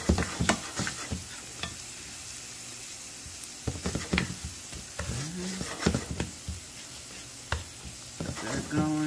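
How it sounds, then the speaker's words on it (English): Onions sweating in a pan as sauce for rigatoni alla vodka, a soft steady sizzle with scattered clinks and scrapes of stirring utensils, close by, with faint background sounds but no clear talk. "We're sweating these onions"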